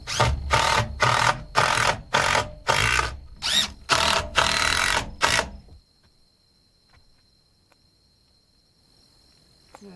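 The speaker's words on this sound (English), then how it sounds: "I'm going to add some screws." A power drill drives screws into window framing in about nine quick, loud, rhythmic bursts at close range, followed by several seconds of near silence.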